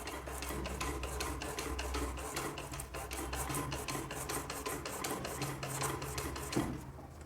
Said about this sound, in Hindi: तो उस चीज़ को अपन से करेंगे रेगमाल के द्वारा। रेगमाल का नंबर होगा 600 लोहे वाला, अच्छी क्वालिटी का।